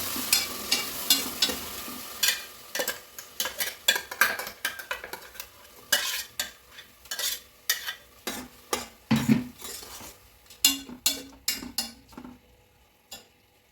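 Vegetable mixture with tomato, green chili and coriander paste stirred and fried in a pan, a close series of rhythmic scraping clinks from a spoon against metal over a soft sizzle, with no voices.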